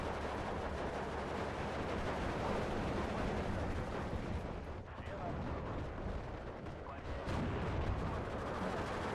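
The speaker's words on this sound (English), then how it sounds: "All these shots coming in from all over" Incoming gunfire in Steel Division 2, a dense continuous wash of distant shots, bursts and artillery rumble spread across the field, steady and fairly loud, with a voice talking over it.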